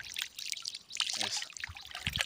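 Dirty water trickles and flows down a small stream in a Mozambican community, a close, continuous burbling with small splashy drips.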